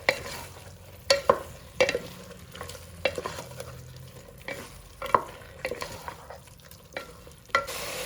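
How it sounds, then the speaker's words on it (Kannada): Chicken frying with ginger garlic paste in a pan for a chicken gravy, a soft continuous sizzle under repeated sharp spatula knocks and scrapes against the pan, close by and without voices. "ಶುಂಠಿ ಬೆಳ್ಳಿ ಪೇಸ್ಟ್ಲಿ ಅಂತ ಹಸಿ ವಾಸನೆ ಹೋಗಬೇಕು ಅಲ್ಲಿವರೆಗೂ ಫ್ರೈ ಮಾಡ್ಕೊಳ್ಬೇಕು"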